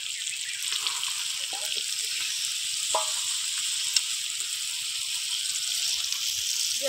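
Steady sizzling hiss of water poured into a pan of Bengali-style thin chicken curry (chicken jhol) with green chillies, continuous and close, with a few small clinks and bubbles.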